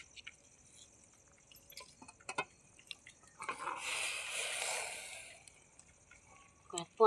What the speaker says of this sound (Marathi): काय पाणी ओतले आता